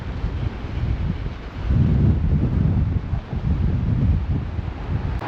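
Steady wind blows at a harbour beach beside cliffs, a constant low rumbling roar with gusts that swell and ease, heard alone with no voices.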